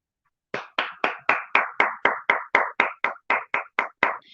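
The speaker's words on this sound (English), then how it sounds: "I want you to give yourself a round of applause" About fifteen sharp hand claps in a steady, even rhythm, close and distinct, from what sounds like a single person rather than a crowd.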